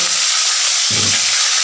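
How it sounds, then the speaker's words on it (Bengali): Hilsa fish head frying in hot oil in a wok: a steady loud sizzle throughout, with a brief burst of crackling and spitting about midway as the head settles into the oil. "মাছের মাথা ফ্রেন্ডস ভাজতে দিলাম"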